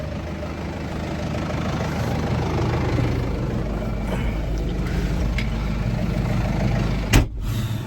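A tractor engine rumbles steadily at low speed while reversing to wind up a hose reel, a close, continuous diesel idle with a brief knock or clunk near the end.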